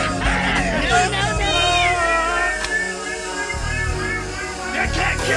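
A cat meows in long, wavering, song-like cries over rhythmic music, loud and close, the drawn-out meows rising and falling almost like a tune.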